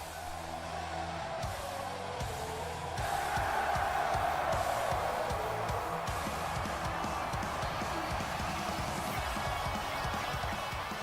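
An arena crowd in the wrestling video game WWE 2K16 roars and cheers continuously, swelling louder partway through, with scattered rhythmic thumps underneath.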